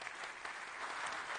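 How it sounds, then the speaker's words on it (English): Audience applause for the hosts at the closing ceremony of a food sovereignty conference in Dakar, a brief burst of dense, steady clapping from a large crowd. "Let's give them a round of applause for being such amazing hosts."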